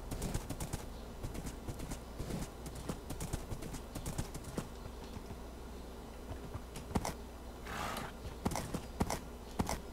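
A horse in Minecraft clip-clops along at a fast gallop, its hoofbeats repeating quickly and evenly at moderate loudness over faint background game ambience.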